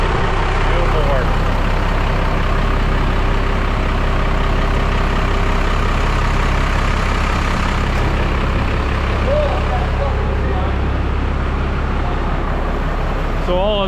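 A 1996 Ford F800 dump truck engine idles loud and close in a steady low diesel rumble throughout, with people talking over it.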